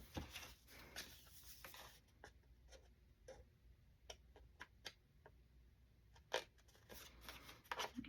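Scissors trim the corner of a paper craft piece in a series of quiet, crisp snips and clicks, spaced irregularly with brief pauses, close up and faint.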